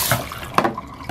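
Water from a tap runs and splashes while a young girl's hair is rinsed, uneven gushes and splatters with brief bursts, close by and moderately loud, with no talking.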